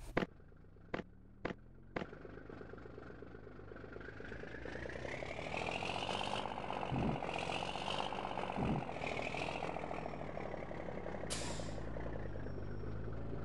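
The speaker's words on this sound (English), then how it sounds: "I have an awesome fire truck simulator." A fire truck idles in a fire truck simulator game, a steady low diesel rumble that swells partway through, with a few sharp air-brake-like hisses and clicks at the start and a late hiss burst.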